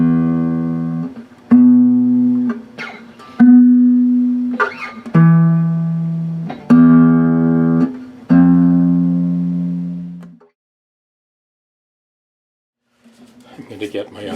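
A Gibson guitar is picked with single notes and chords for a tuning check, six ringing strikes at steady intervals, each decaying, then a pause of near silence before faint playing resumes.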